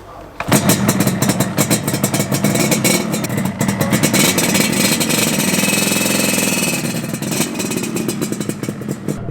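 A 1981 Yamaha RD350 LC two-stroke motorcycle engine fires up and runs steadily close by, a dense buzzing clatter filling nearly the whole stretch with slight rises and dips in revs.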